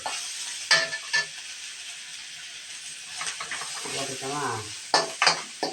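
Bitter gourd fries with a steady hiss in a pan while a spoon scrapes and stirs it in several loud bursts, close by with no talking.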